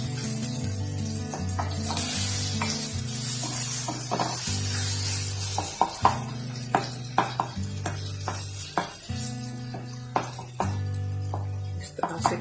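A Pakistani egg frittata with softening tomatoes sizzles in a pan while a spoon presses and taps it, giving repeated light knocks over a soft hiss, with background music playing throughout.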